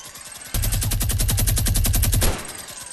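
Rapid automatic gunfire from a video game crossbow-and-guns battle, a loud sustained burst of evenly spaced shots lasting about two seconds, preceded and followed by quieter ambient game sounds.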